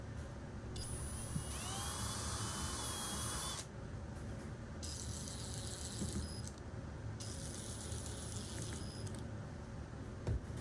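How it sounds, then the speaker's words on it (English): Screws driven into a miter bar on a tenoning jig base with a power drill, a few quiet whining bursts of the motor separated by pauses against faint background hum. "And then I attach the miter bar with screws."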